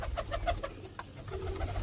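Pigeons cooing close by in a loft, soft repeated throaty coos in a steady rhythm over a low murmur, with no talking.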